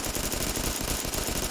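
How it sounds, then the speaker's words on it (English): A Security SMG in Fallout 4 fires in burst mode as rapid, loud, dense automatic gunfire that continues without pause through the whole stretch, with no speech. "It shoots plenty quick."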